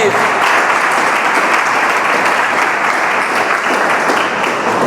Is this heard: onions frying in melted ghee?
no